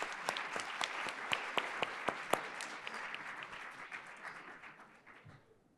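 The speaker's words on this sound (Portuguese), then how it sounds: "Isso merece palmas também" Audience applause at a finance conference panel, a dense wash of many hands clapping with a few sharp claps standing out, steady at first and then gradually thinning and fading away.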